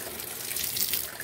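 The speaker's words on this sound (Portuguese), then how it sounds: "A água tá chegando com uma pressãozinha até boa." Gravity-fed water pours steadily from a tap at a rural smallholding under construction, a close, soft continuous hiss and splash with no voices.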